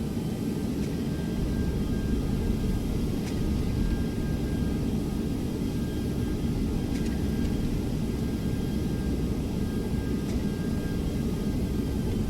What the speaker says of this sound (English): Here comes the reverse thrust.